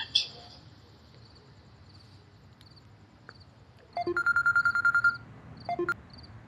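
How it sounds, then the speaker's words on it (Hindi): A telephone number is dialed as a run of short, evenly spaced keypad tones, a rapid burst of about eight followed by a pause and a couple more, over a quiet room background. "बग्गे भाई को करती हूँ फोन, 1 मिनट।"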